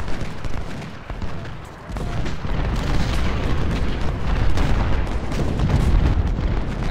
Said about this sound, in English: Now I know they have cannon over here.